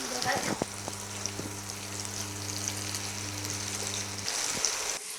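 Corn kernels frying in a pan for rice sev upma, with a steady broadband sizzle and a few stirring clicks near the start, heard close and continuous before it cuts off near the end.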